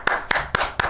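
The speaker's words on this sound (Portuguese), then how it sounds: "Uma salva de palmas para Renata Lopretti." Four sharp, evenly spaced claps ring out close and loud in a single second, a lone pair of hands clapping in applause for a guest.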